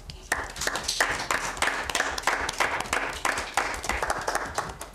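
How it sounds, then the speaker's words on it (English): An audience at a university debate competition claps in a steady, rhythmic burst of applause, moderately close and continuous for the whole stretch. "A round of applause."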